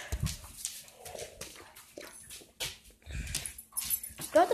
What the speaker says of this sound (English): These dogs ain't helping.